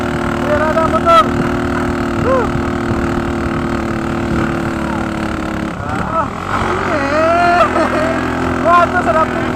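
A motorboat engine running on a river, a steady droning motor with a few tonal whines rising and falling, while people talk and call out over it.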